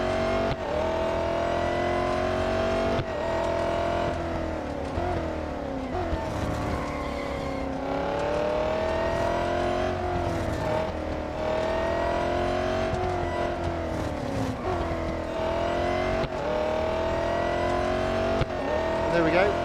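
Racing car engine in the Real Racing 3 mobile game, a steady loud whine that rises and falls with gear changes throughout, with a voice commenting over it.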